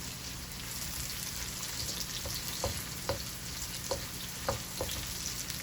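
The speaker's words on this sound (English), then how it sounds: "My onion is caramelizing very well, and I'm about to put my mackerel in now." Canned jack mackerel going into caramelizing onions in a hot pan, giving a steady close sizzle and spatter broken by several sharp taps of a utensil against the pan.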